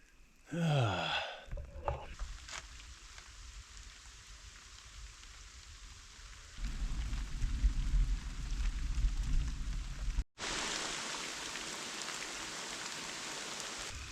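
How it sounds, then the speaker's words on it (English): Steady rain falling in the Australian outback during a hot survival camp, a continuous wash of patter with a brief rustle at the start and heavier, closer drumming later on. "This rain is not letting up at all."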